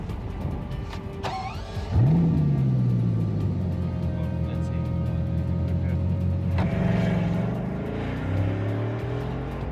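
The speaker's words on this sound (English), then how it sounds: "Should I start the engine?" A Bugatti Chiron hypercar at a race-team pit fires up with a sudden surge, then holds a droning idle that swells into a rising rev. The engine is close and loud.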